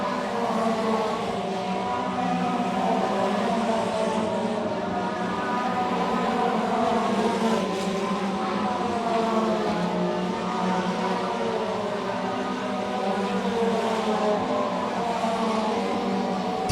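Race cars in a 60-lap feature race roar across the start-finish stripe, a loud continuous engine drone with rising and falling revs as the field streams past.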